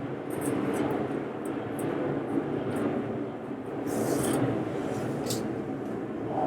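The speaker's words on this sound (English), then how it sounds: "there's like a plane flying over right now" A loud airplane flies overhead, a steady broadband roar that swells and fades slightly over several seconds, with no talk.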